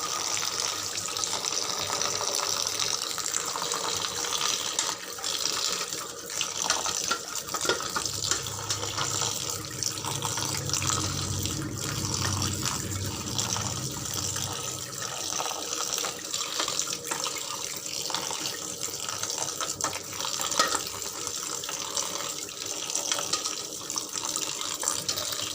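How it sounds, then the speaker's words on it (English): Cold filtered water runs from a tap and is poured onto drained noodles, a continuous close rushing splash that keeps going for the whole stretch, with a fuller low gush partway through and no speech. "and now we will put cold water in it"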